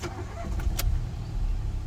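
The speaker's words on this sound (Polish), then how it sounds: "Auto odpala." A 2014 Ford Fiesta engine cranks and catches in a short starting burst, then settles into a steady low rumble close by, with no talking.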